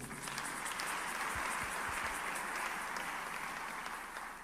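A church congregation applauds newcomers at a service: steady, dense clapping from many hands fills the space at a moderate, distant level without pause.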